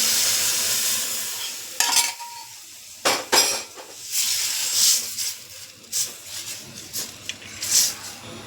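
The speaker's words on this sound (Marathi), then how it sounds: "आता मी एक चमचा लाल मिरची पावडर टाकते आणि परतून घेते" Red chili powder sizzles in hot oil in a pan while it is sautéed for a spinach dal. A steady close hiss runs underneath, broken by irregular stirring scrapes and clinks.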